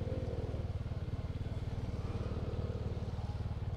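A motorcycle on a muddy off-road track runs with a close, steady, throbbing engine pulse that holds an even rhythm throughout.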